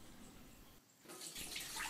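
Water from a kitchen sink draining through a waste line to irrigate vegetables at an off-grid container home, a steady close rushing and trickling flow that swells louder in the second half.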